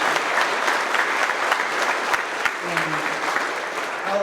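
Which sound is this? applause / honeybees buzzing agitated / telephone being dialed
applause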